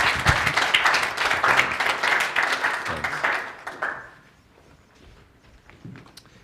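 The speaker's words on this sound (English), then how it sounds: "Give him a round of applause." Audience applause at a graduation event swells loudly for about four seconds, then quickly fades to scattered claps and quiet room noise.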